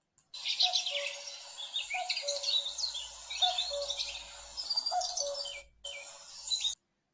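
Repeated low two-note cuckoo calls sound faintly amid a busy chorus of high, bright chirps and tweets from other birds, all outdoors with no speech.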